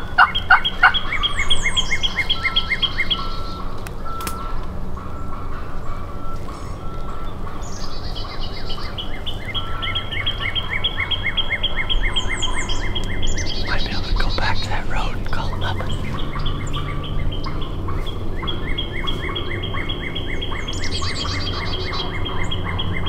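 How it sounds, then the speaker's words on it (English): A wild turkey gobbles repeatedly in the Appalachian mountains, several rattling calls at intervals, fairly distant, with quiet voices murmuring between them. "he's going to gobble back as much as he's been gobbling"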